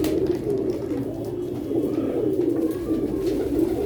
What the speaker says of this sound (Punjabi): ਇਹ ਬਾਂਗਾ ਕਬੂਤਰ ਤੇ ਗੋਲਡਨ ਕਬੂਤਰੀ ਦੇਖੋ